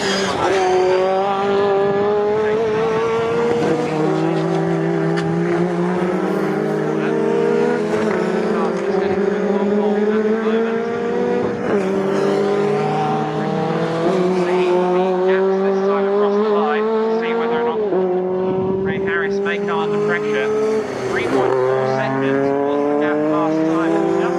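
Intermarque Silhouettes race cars at Snetterton circuit roar continuously, their engines loud and close as they rise and fall through gear changes and pass in a steady stream under a race commentator's voice.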